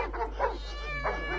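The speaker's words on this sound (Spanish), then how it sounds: "ese es un gato." A cat meows a few times close by, with short, moderately loud calls that rise and fall over a quiet background.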